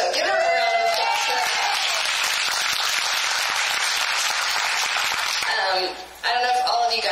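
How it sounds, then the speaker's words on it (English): Audience applause for someone speaker at a regional business event, a dense, steady wash of clapping from a large crowd, briefly dipping near the end as a voice begins speaking. "give her a round of applause for that"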